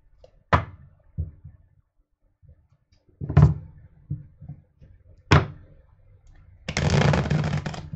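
Several separate bursts of crisp card riffling with quiet gaps between, ending in a longer, denser shuffle; close and fairly loud, no talking.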